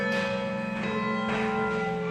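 A school bell rings to mark the start of sixth period, a loud sustained electric tone with strong harmonic ringing held steadily for about two seconds, heard alone.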